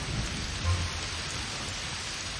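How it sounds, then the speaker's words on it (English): A heavy rainstorm pours down steadily in a dense, hissing wash, with a faint low rumble underneath and no voices. "It's storming and raining, and this is not good."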